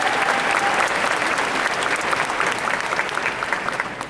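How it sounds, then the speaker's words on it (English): Dense, steady applause from a large audience in a convention hall during a Comic-Con panel, a continuous wash of clapping at close range with no talk. "I want you all to give yourselves a round of applause"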